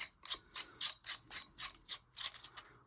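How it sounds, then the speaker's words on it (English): Threading the pommel onto the hilt of an Oggdo Killer Gen.2 prototype knife makes its clocking mechanism ratchet, giving about ten evenly spaced, crisp metallic clicks that are close and quiet, with no talking. "when I put this back together and thread this on, this pommel will be clocked straight"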